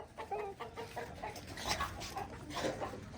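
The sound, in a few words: chickens clucking on a farm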